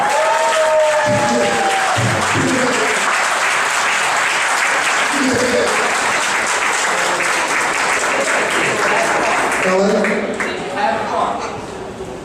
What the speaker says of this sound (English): So to give my father a round of applause